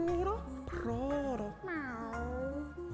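A video game cat meows in drawn-out, wavering tones, several rising and falling cries heard over game music and background sounds.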